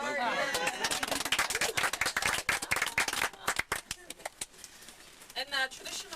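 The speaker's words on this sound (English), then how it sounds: "Give him a clap." An audience at a Cook Islands cultural centre in Rarotonga claps in a scattered burst of sharp, uneven handclaps close by, with people talking amid the applause.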